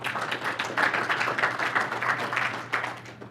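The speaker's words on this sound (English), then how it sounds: "Give them a round of applause, guys." Employees at a company meeting give a round of applause for top sales performers, with moderate, uneven clapping from a modest group that swells and fades.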